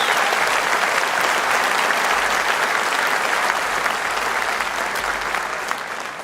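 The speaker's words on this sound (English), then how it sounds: "Give Richard Tice a round of applause." A large audience applauds Richard Tice at a live Reform political rally, a dense, steady wash of many hands clapping that fills the whole stretch and tapers slightly at the end.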